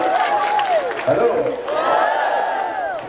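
A crowd at a humorous Islamic sermon claps and cheers, a broad, loud wash of applause mixed with shouting voices and raised calls from many people.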